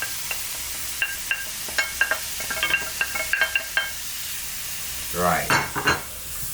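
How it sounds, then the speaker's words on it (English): Saltfish and vegetables fry in a pan with a light sizzle, broken by a series of short clinks and scrapes from a utensil and a brief burst of stirring near the end, with a voice speaking briefly. "so we've got the saltfish in there, we've got the vegetables in there"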